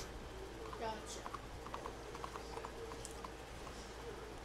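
Horse hoofbeats clop in a quick, regular rhythm in a video game, moderately faint and close, with a few chirps and small pings mixed in.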